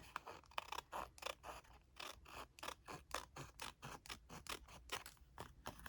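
Scissors snip repeatedly through paper, trimming the sides off a junk journal page with specimen cards, a steady run of about twenty crisp close cuts with short pauses between.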